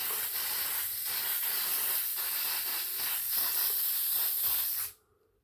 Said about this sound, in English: Spray paint it.